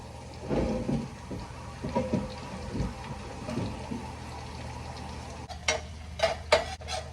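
Asparagus cooking in a pan, a soft continuous sizzle with occasional stirring, then a few sharper clinks of a utensil toward the end.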